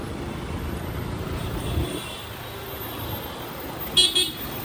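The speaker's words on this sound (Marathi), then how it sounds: "ट्रॅफिक भरपूर लागले मोठे" Heavy road traffic on a night drive in India: a steady rumble of passing cars and engines, with a short car horn toot near the end.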